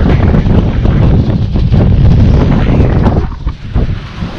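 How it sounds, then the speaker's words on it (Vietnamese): Strong gusting wind buffeting a microphone beside a natural lake during a morning carp fishing trip, a loud continuous roar with rushing surges and no pause. "Gió thổi mỗi lúc một mạnh hơn các bạn ạ."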